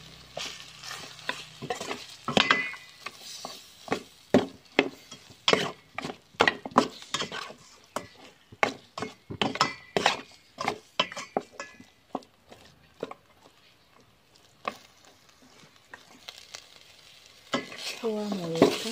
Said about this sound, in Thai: คั่วหมูกับพริกแกงให้มีกลิ่นหอมนะเจ้า